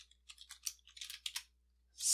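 Computer keyboard typing Python code, a quick run of light clicky keystrokes in irregular bursts, close and fairly quiet, with no talk over it.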